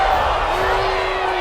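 Steady, loud stadium crowd noise from Madden 21 American football: a constant roaring wash of cheering fans with no break, close and filling the whole moment.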